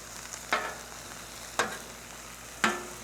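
Peppers and onions sizzle in oil on a flat top grill, a steady faint fry broken by three sharp scraping clatters of a spatula, evenly spaced about a second apart.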